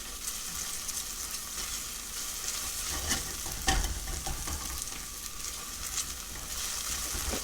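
Onions softening in a pan, a faint continuous sizzle with occasional light stirring scrapes and one brief louder knock.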